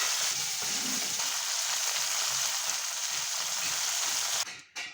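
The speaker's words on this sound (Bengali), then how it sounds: "মাছ এক পিঠ ভাজা হয়ে গেছে," Bele fish frying on its second side in hot oil in a wok, a continuous close sizzle and spatter that cuts off abruptly near the end.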